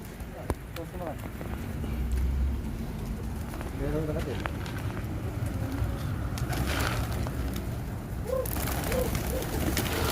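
Pigeons gathering while being fed outdoors, giving several soft, repeated coos among scattered flutters and bustle, with a person's voice and general background noise throughout.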